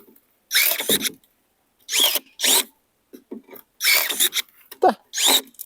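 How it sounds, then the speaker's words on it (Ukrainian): A ProCraft ES 32 Li cordless pruner bites into a wooden pallet in four separate bursts of loud, rasping crunching, each roughly half a second long, with brief pauses between them and no talking. "Ідемо та і спробуємо, як він гризе піддон."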